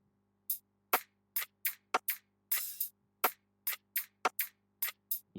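An afrobeat drum pattern with a kompa feel, programmed in FL Studio: crisp, evenly bouncing percussive hits in a steady groove, with one longer open hi-hat splash in the middle and a faint low hum underneath.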